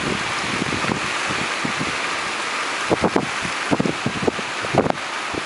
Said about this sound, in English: Trying to shelter the camera from the rain and wind,